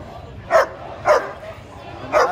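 A dog at a Friday street market barks three times in short, sharp bursts spaced about half a second to a second apart, close and fairly loud against a murmur of market background.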